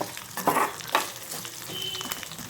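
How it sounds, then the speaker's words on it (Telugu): Onion frying in a pan for gongura chutney, a close, steady sizzle broken by scraping stir strokes, with no talking. "దీంట్లో అయితే ఇప్పుడు ఆనియన్ వేసుకుందాం"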